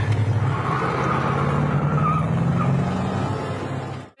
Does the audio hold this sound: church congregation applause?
no